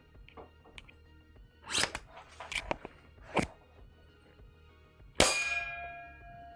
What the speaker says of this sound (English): Did you hear the ding?